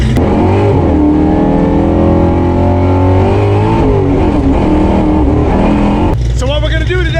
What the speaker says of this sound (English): we're gonna stick the old Flowmasters back on our car here with a 600 lift cam and a 393 stroker